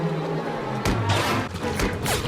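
Gunfire in a television drama scene aboard a boat on the water, a few sharp loud cracks and bursts over a busy background.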